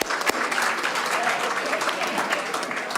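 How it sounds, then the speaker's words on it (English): An audience at Hamilton's airport applauds an investment and partnership announcement, a dense, fairly loud burst of clapping that holds steady, with a few louder individual claps near the start and faint voices mixed in. "A round of applause there"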